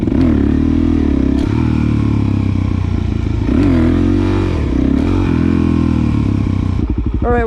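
A supermoto motorcycle engine revs hard in repeated gas-and-brake bursts during wheelie practice, loud and close, each throttle blip rising then dropping, ending with a rattling clatter.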